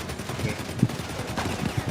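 Heavy gunfire in GTA Online during a Lowriders mission, quick repeated shots with a few louder bangs standing out over steady game noise, while players talk.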